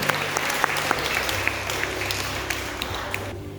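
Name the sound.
audience clapping at a school carol service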